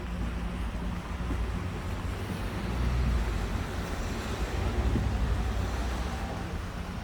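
Light drizzle falls steadily on earthenware jars in a garden crock terrace on a rainy autumn day, a continuous dense hiss with a low rumbling undertone, close and even in loudness, no voices.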